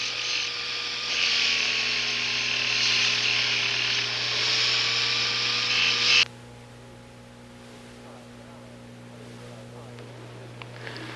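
A rotary sandpaper disc on a dental handpiece whines steadily while smoothing a gold dental inlay where the sprue was attached, then cuts off abruptly, leaving a low mains hum.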